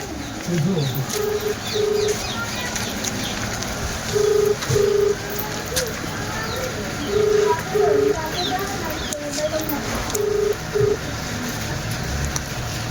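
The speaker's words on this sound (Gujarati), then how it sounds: "કાતરોજીને ફોન કર્યો" A phone call is being placed, giving repeated pairs of short electronic beeps four times, heard over a noisy outdoor background with pigeons cooing and people talking nearby.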